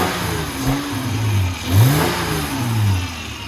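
A Honda Accord engine with a stock intake idles, then revs up several times in short bursts, rising and falling in pitch, close by and without speech.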